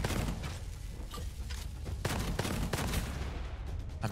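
Gunshots in the shooter video game Gunfire Reborn, a fairly quick run of sharp repeated shots over a constant dense backdrop of game noise, with no talking.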